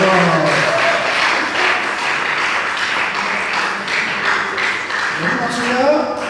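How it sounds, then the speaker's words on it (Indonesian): Church congregation clapping hands, a steady wash of applause running throughout and mixed with talk and voices over it. "Oh, tepuk tangan untuk dia."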